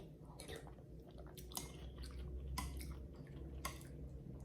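Quiet close-up chewing and slurping of khao piak, a Lao coconut rice noodle soup, in irregular wet bites and crunches with no talking.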